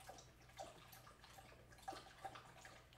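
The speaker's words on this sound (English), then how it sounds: "if you guys hear water or clicking nails, those are my dogs." Faint, irregular lapping and splashing of a dog drinking water from a bowl indoors, soft wet laps repeating every half second or so against a quiet room hum.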